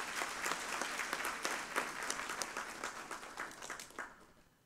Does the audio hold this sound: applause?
yes